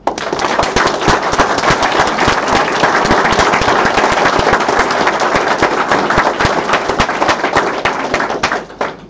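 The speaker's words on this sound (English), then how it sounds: "So I want to give them a big round of applause." Audience at the KansasFest 2017 Apple II convention giving a big round of applause, dense, loud, rapid clapping sustained for several seconds before tapering off at the end.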